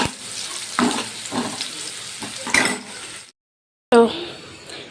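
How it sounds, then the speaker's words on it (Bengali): Semolina dry-fries in a pan for upma, giving a soft sizzle broken by stirring scrapes and metallic clinks of a spoon against the pot, with a brief dropout partway through. "ভাজা ভাজা করে এর মধ্যে সুজিটা দিয়ে আর কি"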